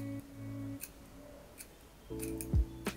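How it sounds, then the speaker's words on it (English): Scissors slowly closing while dragged down through a section of hair being cut into layers, giving a few soft, close snipping crunches against a quiet hum. "closing the scissors as I kind of drag down"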